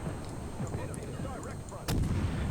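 Naval guns boom in World of Warships, a distant rumbling salvo over steady low engine and sea drone, with one loud broadband blast near the end.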